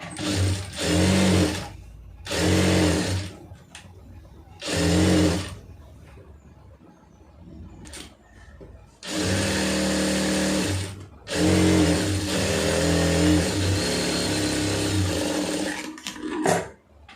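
Domestic sewing machine stitching the hem of a lined blouse, loud and close, running in short bursts at first and then in long steady runs with brief stops between, no talk.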